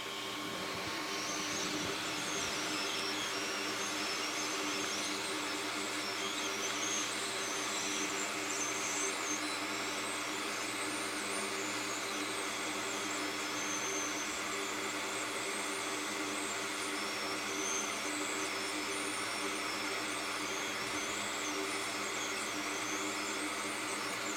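A hot air rework station blows high heat onto a chip on a MacBook Pro Retina logic board. It makes a steady, unbroken whooshing roar with a faint whine, close and constant throughout.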